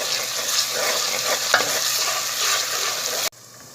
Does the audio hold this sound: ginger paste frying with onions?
yes